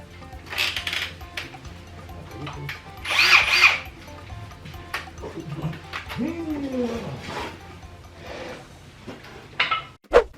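A power drill boring into material during veranda construction, short loud bursts of whirring and a pitch-sliding spin-down, close by, with people talking between the bursts.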